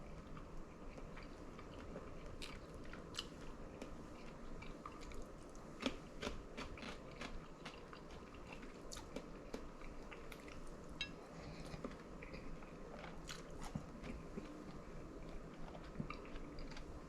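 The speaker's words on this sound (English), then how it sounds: "Carrot is still good for the crunch." Someone chewing crunchy carrot and long bean stir-fried with dried shrimp: quiet, close crunching and moist mastication with occasional sharper bites, continuing steadily for a long stretch without speech.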